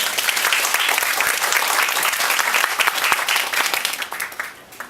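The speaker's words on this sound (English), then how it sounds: "a round of applause for our fantastic translator." An audience at a product presentation applauds the translator, loud sustained clapping that gradually thins and fades out near the end.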